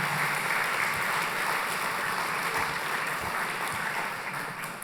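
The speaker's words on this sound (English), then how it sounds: "So another round of applause for our final 20." An audience at a civics bee event at the Nixon Library claps in sustained, dense applause that fills the room evenly and tapers slightly toward the end.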